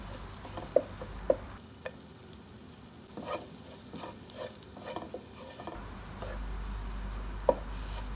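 Chopped ginger and garlic sautéing in a pan for pasta: a soft, low sizzle with light scraping stirs and a few crisp taps of the spoon on the rim.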